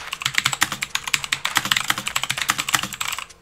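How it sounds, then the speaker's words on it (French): Rapid typing on an aLLreLi mechanical keyboard, a dense run of crisp, close key clacks in a steady rhythm with no voices. "voici quand même un petit aperçu du bruit du clavier."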